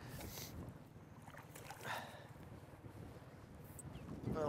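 Steady low motor drone with wind buffeting the microphone and water rushing past, a fishing boat moving along Kasba Lake at a constant pace.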